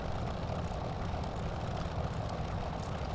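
The Curtiss P-40F Warhawk's piston engine drones steadily in a flight simulator game, a continuous buzzy propeller roar at moderate level with no voice.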